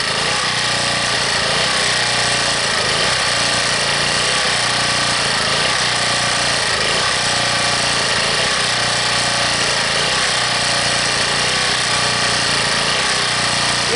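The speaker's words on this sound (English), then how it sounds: "You can start to hear it's warming up, so it's not hunting as bad." A Harbor Freight generator runs after a cold start without choke, its small engine droning loudly and continuously with a rhythmic surging as it hunts while warming up.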